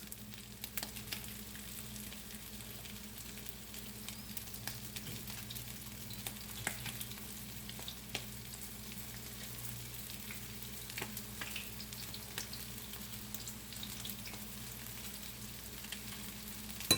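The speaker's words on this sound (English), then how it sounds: "That will be fried in batches." Small clusters of food frying in batches in hot oil, a steady crackling sizzle with scattered pops and light stirring that keeps going throughout, and no one talking.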